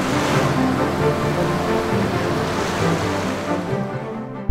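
Sea waves rolling in steadily at a bay in Sihanoukville, Cambodia, a broad continuous wash of surf with some wind noise, close and fairly loud throughout.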